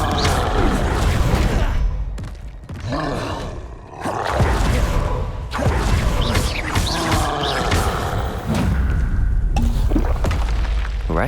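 Spell-casting combat in Hogwarts Legacy, with an Expelliarmus spell among dense, loud magical blasts, booms and roaring bursts that repeat in quick succession with short pauses, with no talking.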